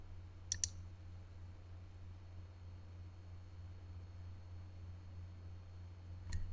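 Computer mouse clicking during a WordPress manual install on a PC, two quick, faint clicks near the start and another near the end over a quiet, steady hum.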